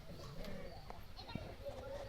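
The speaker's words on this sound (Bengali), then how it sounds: "দেখুন গুগু কোয়ালিটি মনোকবুতরের বাচ্চা এগুলো" Wild Jalali pigeon chicks coo softly in a small group, low faint murmuring calls close by, with a few faint knocks and some background noise.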